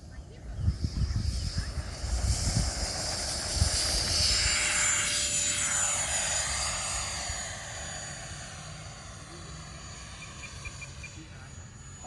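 A Freewing F/A-18 RC jet with a 64mm electric ducted fan on 4S power makes its first flight, its whine rising as it sweeps past and then fading into the distance, with wind buffeting and handling noise near the start.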